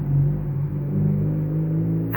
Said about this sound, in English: I'll let the car go by.